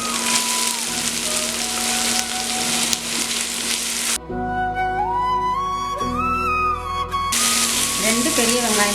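Onions hissing and crackling as they fry in hot oil for Mughlai chicken, a loud steady sizzle that briefly drops away mid-clip while a tonal whistle-like hum sounds, then the sizzle returns.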